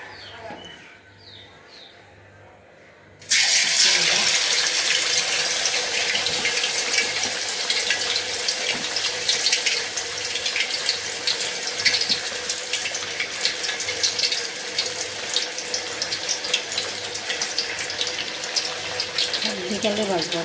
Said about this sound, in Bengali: তো এটাই ভেজে দিচ্ছি